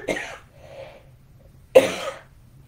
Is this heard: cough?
yes